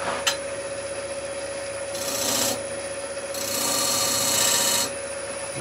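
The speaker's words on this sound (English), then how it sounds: "I'm going to do that now just with a little negative rake scraper, i.e. the skew. So just a little scrape there." A skew chisel used as a negative rake scraper rubs against the spinning base of a scrap-wood bowl on a lathe, making two raspy scraping passes over a steady motor hum.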